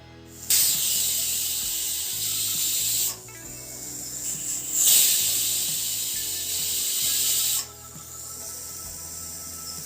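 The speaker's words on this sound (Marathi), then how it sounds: "कुकरचं झाकण लावून मीडियम फ्लेमवर दोन शिट्या होऊ द्यायच्या आहे" Loud, steady steam hiss from a pressure cooker in several long bursts, cutting off and restarting, with faint clinks and a low hum underneath.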